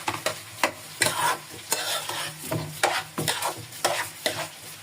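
Spice paste stirred and frying in a pan for hilsa fish pulao, repeated rhythmic scraping strokes of a spatula over a continuous sizzle, close and fairly loud, with no voices.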